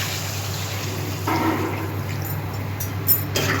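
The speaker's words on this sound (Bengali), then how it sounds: "এবার আমি জল দিয়ে দিচ্ছি।" Water is poured into a pot of potatoes cooked down with spices, a steady close splashing and trickling that starts partway through and runs to the end over a low background hum.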